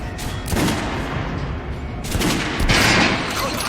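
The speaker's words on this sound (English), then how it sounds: "Try shooting from the center of the regular dummy chest." Gunfire at a training dummy in Metro Last Light Redux, a run of rapid shots in bursts with reverberant tails, moderately loud and steady, with no talking over it.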